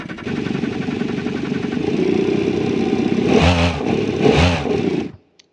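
A sports car engine in the BeamNG driving game revs with a buzzing, motorcycle-like tone, holding a steady drone before two sharp rev surges, then cutting off abruptly.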